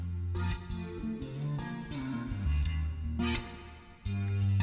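An electric guitar run through chorus and reverb effects in a music production setup, plucking a few sustained, shimmering chords and notes with soft swells and a wide, wavering tone.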